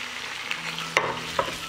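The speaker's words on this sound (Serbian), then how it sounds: "Dodat ću 500 grama pileće džigerice bez srca." Chicken livers, 500 grams without hearts, frying in a pan with butter, onion and garlic: a continuous gentle sizzle broken by two or three quick scraping stirs nearby, with no voices.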